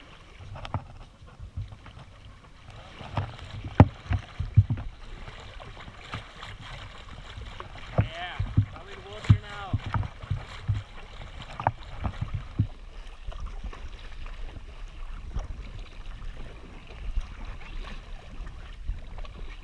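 Small rubber boat being paddled on sea waves, irregular splashing paddle strokes and knocks near the microphone over a steady background of water and wind, with no talking.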